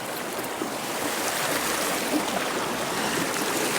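Steady broadband rush of brook water flowing outdoors on a cold winter nature walk, a continuous even wash with no talk over it.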